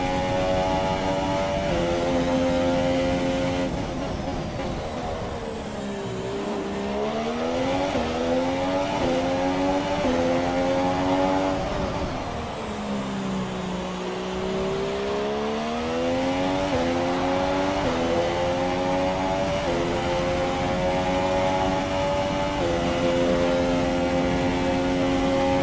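A Formula One car's engine on a fast lap in the F1 2017 racing game, a loud, continuous high-pitched scream rising and falling through gear changes and braking, with two deep dips before climbing again.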